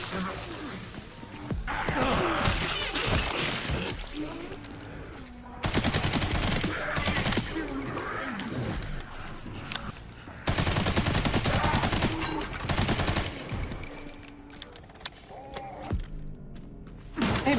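SMG fire in Resident Evil 9, sustained loud bursts of rapid automatic shots separated by short pauses, mixed with game effects and grunts.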